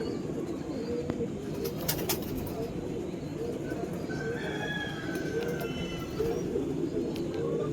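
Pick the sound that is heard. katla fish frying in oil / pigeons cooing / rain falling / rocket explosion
pigeons cooing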